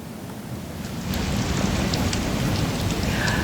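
Heavy rain pours down at the Manggarai floodgate in Jakarta, a dense, continuous hiss that grows louder after the first second and holds steady.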